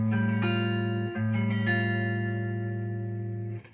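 An electric guitar strums a single sustained seventh chord that rings out with a slight effects-processed shimmer, restruck once or twice before fading.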